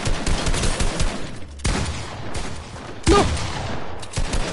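Shotgun fire in Fortnite box fights, a series of sharp, loud blasts in irregular bursts with gaps between shots, one especially strong hit near the end, and a player's brief shout in between.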